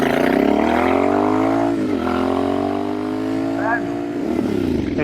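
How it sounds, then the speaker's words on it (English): A Royal Enfield Bear 650 with a high-pipe shotgun exhaust roars close by while riding, its engine note climbing through revs, dipping at a gear shift, then pulling up again, with a rider talking over it. "Oh, I love the sound."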